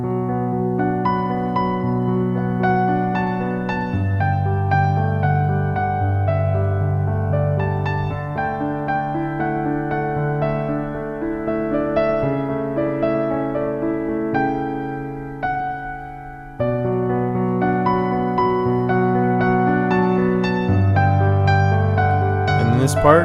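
Solo piano plays flowing arpeggios from a worship song, a steady rolling pattern of sustained notes over changing bass, clear and close, without speech.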